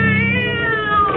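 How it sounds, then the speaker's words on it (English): A cat's scream sound effect from a 1940s horror radio drama, a single loud, sustained yowl with a wavering, slowly falling pitch that fills the short moment alone, without voices. "the cat screamed and leaped against the wall"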